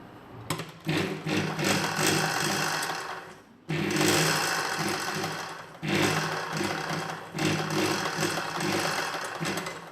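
A sewing machine runs in three long bursts as it stitches piping onto a nighty, a fast whirring rattle close by with brief pauses between runs and no talking.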